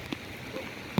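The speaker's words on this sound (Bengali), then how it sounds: "এখন তো বৃষ্টি পড়ছে।" Rain falls steadily on surfaces in Agartala during a rainy day, giving a close, even patter with a couple of sharper drips standing out.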